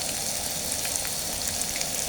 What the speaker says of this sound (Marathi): कांदा पण आपल्याला छान लाल होईपर्यंत परतून घ्यायचा